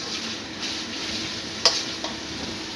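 Ground pork sizzles steadily in a hot pan for a Filipino ginisang giniling with egg, as a spatula stirs and scrapes through it, with one sharp clink of utensil against the pan near the end.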